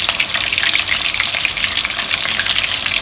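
Stuffed tofu puffs filled with meat deep-frying in hot oil, a dense continuous crackling sizzle that stays steady and loud throughout, with no voices.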